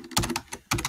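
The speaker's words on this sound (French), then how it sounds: "je tape page." Fingers tap quickly on a computer keyboard, a close burst of several crisp keystrokes, a pause, then another short cluster, with no talking.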